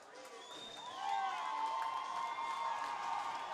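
A crowd at an Arkansas college hockey game against Dallas Baptist cheers and whoops in a rising swell that stays steady, with an announcer talking over the noise.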